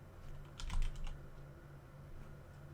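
Quick burst of typing on a computer keyboard, a short run of clustered key clicks near the mic over a low room hum, then quiet.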